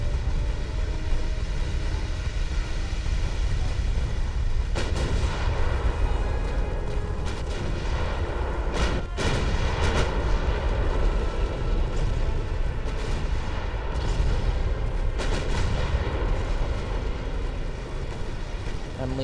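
Warship gunfire in Ultimate Admiral: Dreadnoughts, an 1890s-era naval battle: dense, continuous rumbling cannon salvos with intermittent sharper booming reports over a constant roar of battle noise, loud and unrelenting.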